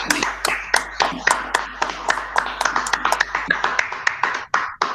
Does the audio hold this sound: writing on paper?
no